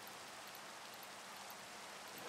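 Steady rain falls in the Minecraft TerraFirmaCraft video game, a soft, even hiss of droplets with no other sounds.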